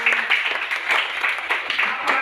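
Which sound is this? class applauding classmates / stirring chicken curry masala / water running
class applauding classmates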